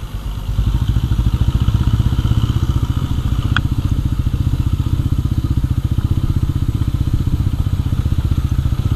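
Motorcycle engine on a mountain road in Uttarakhand, a loud, steady, close drone that holds throughout.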